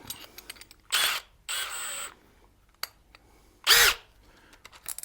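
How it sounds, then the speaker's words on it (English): Three loud bursts of a power drill with a 7/8-inch spade bit boring through wood, each whining for a fraction of a second to a second, with quiet clicks and handling noise between. "I'm going to drill a hole"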